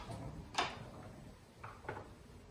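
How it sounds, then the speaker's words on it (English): Main entrance door of a university residence hall in Ontario opening, with two soft knocks or clunks of the latch and hinge, fairly quiet over a low room hum. "this is the main door that you come in"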